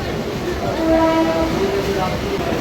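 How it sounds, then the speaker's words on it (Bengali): A passenger train stands at a station platform near Kolkata before departing for Bangaon, with a steady mid-pitched horn-like tone swelling and fading over a busy rumble of boarding crowd noise and background voices. "তো এই আমাদের ট্রেন দেখুন সব এখন লোক উঠছে তো আটটা দশে ছাড়ার টাইম"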